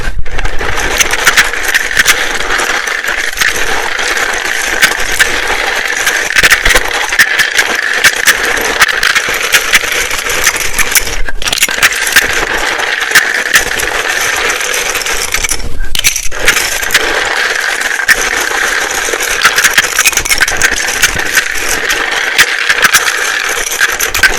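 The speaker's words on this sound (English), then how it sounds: "It can be very loud when I shuffle these." Tarot cards are shuffled close up in loud, continuous riffling and rattling bursts, with two short pauses partway through and no talking.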